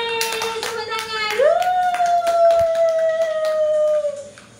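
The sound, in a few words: people clapping hands at a child's birthday celebration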